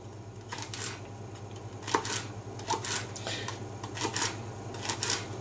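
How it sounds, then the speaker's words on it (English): Crisp knife strikes tap against a cutting board in quick uneven bursts while finely dicing celery, close and clear, over a faint steady background hum with no talking. "Then just chopping it crossways like this gives it a nice fine dice."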